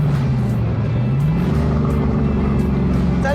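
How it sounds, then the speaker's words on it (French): A Cobra car's tuned engine brakes with a loud, close drone whose pitch slides and shifts as the revs fall. "Regardez le frein moteur."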